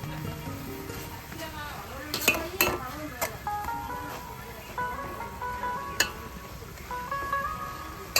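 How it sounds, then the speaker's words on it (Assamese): Green chillies, onion and garlic fry in a pan with a soft sizzle, broken by sharp clinks and scrapes of a utensil against the pan at irregular intervals. "এতিয়া মই কেঁচা জলকীয়া, পিঁয়াজ, নহৰু দি এতিয়া ভাজি ল'ম"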